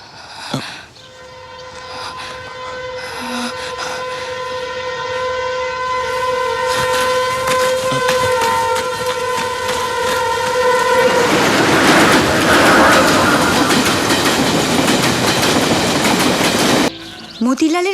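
A train sounds a long, loud, steady horn close by, then rumbles past with a rising roar and rattling wheels that swell toward the end before cutting off abruptly.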